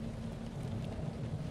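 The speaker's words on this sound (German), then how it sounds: "Pater Josiah sitzt sorgengrämend im Regen," Steady rain hisses over a deep continuous rumble of thunder in a video game, a dense, even wash of weather sound with no voices.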